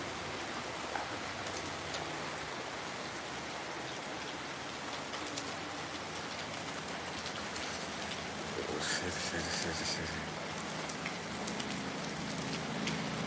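Summer rain falls steadily in a dense, even hiss of drops striking surfaces, continuous throughout with a slight swell toward the end and faint birdcalls in the background.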